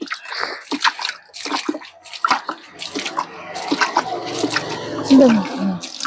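Water is sprinkled by hand over soil in repeated splashes and patters, with people talking over it.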